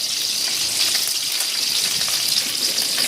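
Oil and fresh butter sizzling in a pan on the stove, ready for mustard seeds, curry leaves and cumin; a steady, bright frying hiss holds at an even level throughout, with no voices over it.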